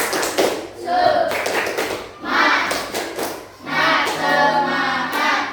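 A school class claps out a rhythmic spirit clap in patterned bursts of quick, sharp hand claps, interleaved with chanted group voices and pauses between rounds.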